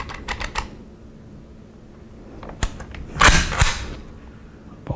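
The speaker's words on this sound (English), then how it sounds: "Bolt hold open there." A bolt locking open on an ATI GSG MP40 9mm pistol makes a sharp metallic clack with a brief rattle, preceded by several small mechanical clicks and handling noises, close and fairly loud.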